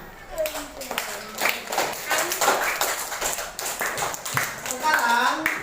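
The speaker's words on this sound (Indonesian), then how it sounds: "Beri tepuk tangan." Students in a classroom break into a burst of clapping, a dense, continuous patter of hands mixed with their voices.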